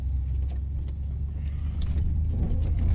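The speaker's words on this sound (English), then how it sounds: "It's 2002 Chevy Silverado Z71 1500, and this thing will go just about anywhere." A 2002 Chevy Silverado Z71 1500 pickup truck drives through snow and wind, its engine giving a steady, loud low rumble close by throughout, with no talking.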